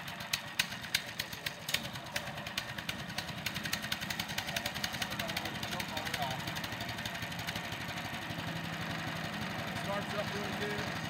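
A small engine catches and settles into a steady idle after the choke is turned off. It runs with a continuous, rattling mid-range drone that stays close and fairly loud, while a person talks over it.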